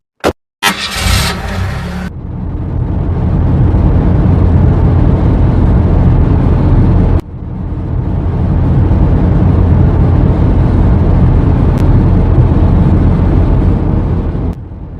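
A car engine in the video game Simple Sandbox 2, with the car running without brakes, roars as a loud, continuous low drone after a few sharp clicks, briefly cutting out midway and then resuming steadily.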